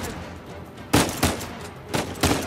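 Gunfire in the Uncharted 4 video game: four loud, close shots in an uneven burst, each a sharp crack with a short ringing tail, over quiet background ambience.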